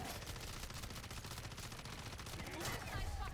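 HRM-9 submachine gun fired in a zombies video game, a dense, continuous stream of rapid shots running steadily throughout amid busy game noise.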